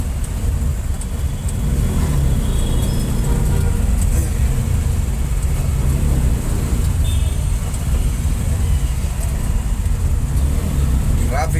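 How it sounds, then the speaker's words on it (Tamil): Steady morning road traffic around a load auto, a dense, continuous rumble of passing vehicles with low engine drone throughout, fairly loud and close with no clear pauses. "டிராஃபிக்காக இருக்குது காலையில் கொஞ்சம்"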